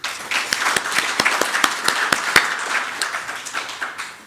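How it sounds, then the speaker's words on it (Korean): Audience applause at a Korean community forum celebrating the release of a commemorative book, a scattered mix of sharp individual claps and a denser wash of clapping, fairly close and steady before tapering off near the end. "우선 축하와 격려의 큰 박수 부탁드리겠습니다."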